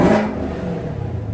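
A Chevrolet Camaro ZL1 fitted with a Roto Fab Big Gulp cold air intake revs hard, a loud rising engine roar that fades into a steady rumbling idle, heard close with no talking.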